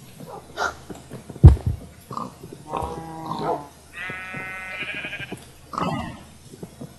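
Sheep bleats in the Minecraft video game, a few short wavering calls in the middle after some soft thuds and clicks, alongside other blocky in-game sounds.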